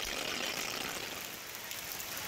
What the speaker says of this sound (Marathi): आपण या दृश्याच्या माध्यमातून पाहू शकतोय मुंबई आणि परिसरामध्ये मुसळधार पाऊस होतोय